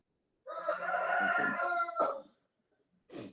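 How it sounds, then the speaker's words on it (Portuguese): A rooster near a house crows once, loud and close, a long strained cock-a-doodle-doo that ends abruptly, followed by a short cluck after a brief silence. "Esse galo tá cantando com força aí."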